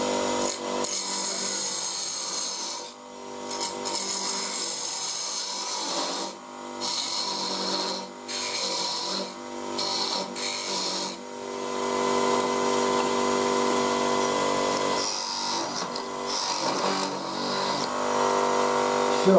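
A power tool turns a wooden baluster blank, a loud continuous rasping and grinding that dips briefly several times as the cut pauses, then runs on steadily.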